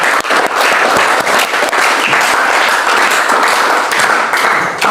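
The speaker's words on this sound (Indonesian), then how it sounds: "Belum lagi tutup, kita tepuk tangan dulu." A classroom of students claps hands together in steady, continuous applause lasting several seconds, dense and close, with no talking over it.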